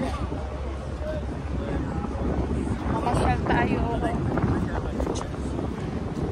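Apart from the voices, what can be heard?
wind blowing on the street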